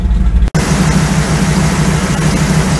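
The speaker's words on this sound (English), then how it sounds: "We got the engine warmed up. And we want to set our idle at about 800," A warmed-up car engine with an Edelbrock carburetor idles in a steady low rumble, loud and close, cut by a brief dropout near the start and then holding an even drone.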